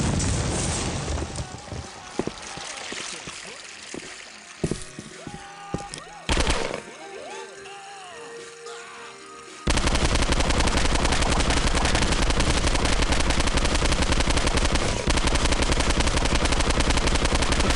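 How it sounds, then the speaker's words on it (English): Grenades and gunfire in a video game: scattered bursts and a sharp blast early on, then a loud, continuous barrage of explosive noise that fills the second half without letup. "Garrett Coleman's throwing grenades now"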